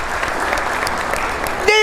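Congregation in a church sermon clapping for Jesus, a steady, dense roomful of applause that carries on throughout before a voice cuts in at the end.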